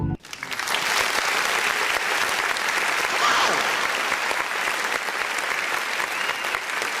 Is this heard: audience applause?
yes